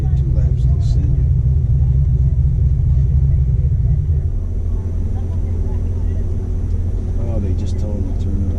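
A racing vehicle's motor rumbles loud and low, then cuts out about halfway through. Quieter background sound and voices follow.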